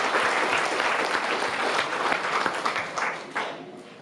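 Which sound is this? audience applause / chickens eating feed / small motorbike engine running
audience applause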